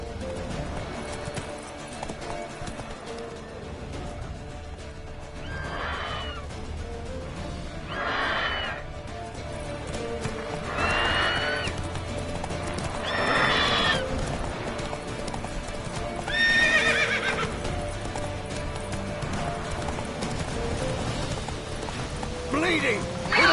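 In Witcher 3, the horse Roach gallops with a steady clip-clop of hooves and gives several whinnies, under game music, ambience and a voice talking.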